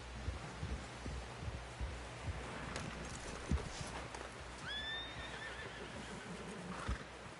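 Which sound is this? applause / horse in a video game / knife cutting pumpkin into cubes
horse in a video game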